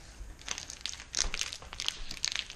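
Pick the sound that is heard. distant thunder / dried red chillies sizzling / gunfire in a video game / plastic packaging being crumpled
plastic packaging being crumpled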